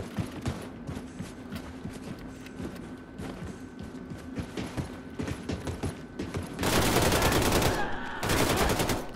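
Gunfire in Wolfenstein II, with scattered sharp shots and mechanical clatter early on. Heavy, loud, sustained bursts of firing follow near the end.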